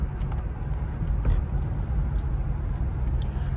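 A 1994 Cadillac Deville cruising down a road, its engine and tire rumble a steady low drone with no talk over it.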